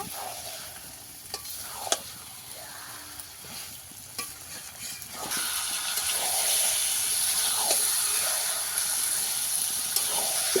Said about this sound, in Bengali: মাংসটা ভালো করে মশলার সঙ্গে ভালো করে মিশিয়ে একটু কষিয়ে নেব